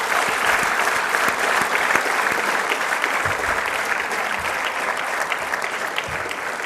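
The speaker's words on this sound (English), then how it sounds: "Let's give a big round of applause to them." An audience claps in a dense, sustained round of applause that holds at an even level for several seconds, with a faint murmur of the crowd underneath.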